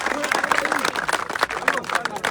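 An audience at a political rally in Manota, Khetri, clapping together, with the sound blending into crowd babble and talk and staying steady and fairly loud throughout.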